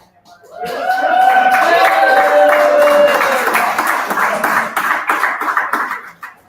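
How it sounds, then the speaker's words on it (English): Audience at a charity comedy show breaks into applause for the comedians, swelling quickly and holding steady, with a voice talking over it before it thins out and fades. "let's give a round of applause to our comedians."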